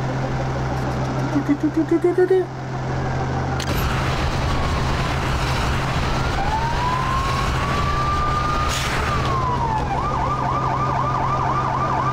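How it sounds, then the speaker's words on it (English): Police sirens on a vehicle in the video game Lego City Undercover, with a wailing siren sweeping up and down, then a rapid yelp pattern at the end, loud over steady engine hum and game background sound. "sirens on important people coming through."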